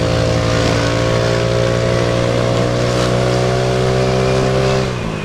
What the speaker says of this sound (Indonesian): Knalpot tuh gue pakai bobokan made in KP16 tuh.